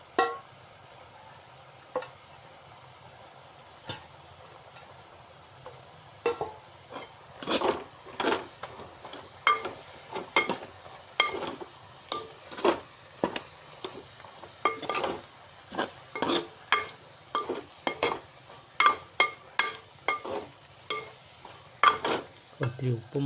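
A spoon scrapes and stirs crushed coconut into avial in a pan, giving an irregular run of sharp clatters and scrapes over a faint sizzle, quiet at first and busier later.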